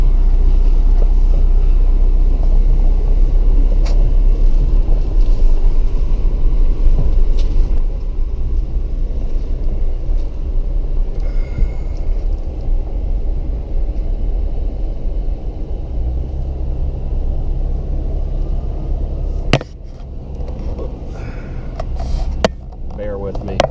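A car cruises slowly through a campground at Stone Mountain, Georgia, a continuous low rumble of engine and road noise from inside the vehicle, with a voice talking over it and a few sharp knocks near the end.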